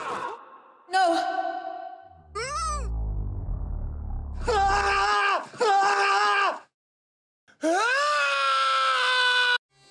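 A voice screams and groans in a series of separate cries, one a long drawn-out yell, in a trailer for the film The Mummy starring Tom Cruise, with short silent gaps between the shouts.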